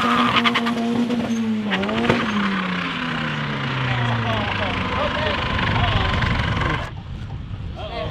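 A race car in a Euro versus JDM challenge run, its engine note sweeping downward as tires squeal and skid, loud and close, ending with a sudden drop in engine noise.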